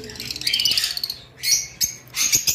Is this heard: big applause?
no